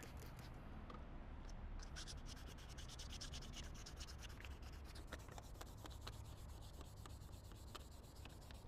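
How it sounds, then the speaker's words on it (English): Wet sanding of a plastic car headlight, heard as continuous rapid back-and-forth scratchy rubbing strokes, close and fairly even in level throughout. "On average, it should take about 3 or 4 minutes of sanding to get it done."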